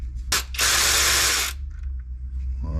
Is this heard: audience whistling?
no